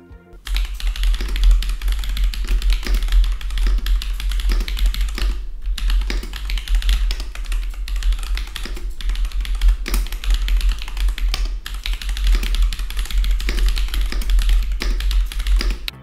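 Steady typing on a Whitefox Eclipse mechanical keyboard with hot-swap switches and a 3D-printed case, giving a dense run of muted, soft, slightly plasticky key clacks, close and continuous with a few short pauses.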